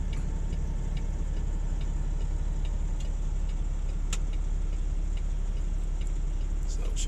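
A crane truck's engine runs continuously at an oil rig site during a dismantle, a loud, steady low rumble with faint ticking clicks scattered over it and no clear talk.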